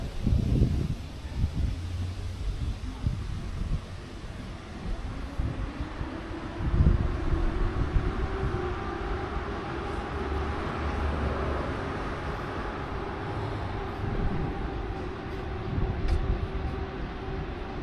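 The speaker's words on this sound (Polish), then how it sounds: "Pociąg odjechał, idziemy na peron." Train pulling away from a railway station platform, a low steady rumble of rolling wagons with wind buffeting the microphone, continuous and moderately near for the whole stretch, no talking.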